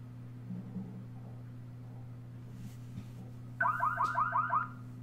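An alarm sound effect played in the Unity3d game engine gives a short, pulsing electronic warble of about seven rapid beeps. It sounds alone over a steady low hum.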